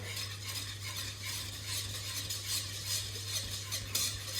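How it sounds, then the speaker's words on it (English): A whisk works steadily through a sauce in a pan as milk is gradually added for moussaka, a continuous close scraping swish with no talking. "Now we start adding the milk, just gradually. And whisk the whole time constantly."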